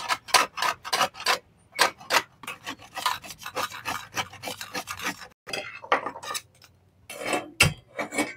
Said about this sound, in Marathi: हे खोबरं घेतलं, खोबरं खिसून घेतो मी आता